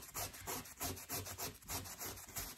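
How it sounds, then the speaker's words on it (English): Steady rhythmic rubbing of denim jeans being distressed, about ten back-and-forth strokes like sanding, close and fairly loud, with no voices. "Pretend you're like sanding down wood. You want to do that with your jeans"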